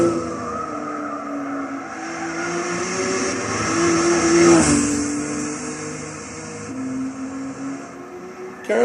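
Volkswagen GTi Roadster Vision Gran Turismo race car in Gran Turismo 6 at the Nordschleife, its engine and exhaust droning steadily with rising and falling revs through gear changes, loud and continuous.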